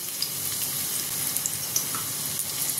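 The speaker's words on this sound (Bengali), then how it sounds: "এতে ফোড়ন দেব 2টো শুকনো লঙ্কা, দেবো রসুন কুচি।" Two dried red chillies and chopped garlic tempering in hot oil, a dense, steady hiss of frying with a few small pops, close and unbroken.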